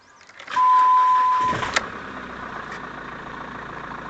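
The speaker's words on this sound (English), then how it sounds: "That's a cold engine start." A 2005 Jeep Liberty CRD turbo diesel cranks and catches on a cold start with a loud surge, then settles into a steady, low idle rumble around 700–750 RPM that continues evenly.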